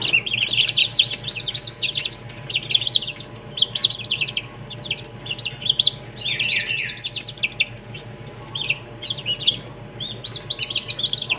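Pet birds kept at home chirp in rapid, high, busy bursts close by, with a steady low hum beneath them and no voices.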